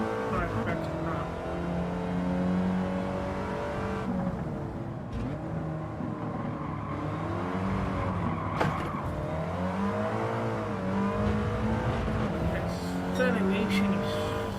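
A race car accelerating hard in Gran Turismo 7, an engine climbing steadily through the gears, loud and sustained, with tire squeal and commentary over it.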